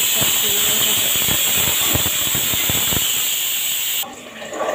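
Onions fry in a pan for chicken curry, giving a steady, loud sizzling hiss with small crackles. The sizzle drops off sharply near the end.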